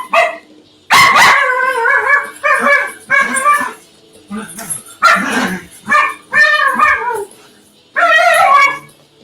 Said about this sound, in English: There's a vicious dog fight going on.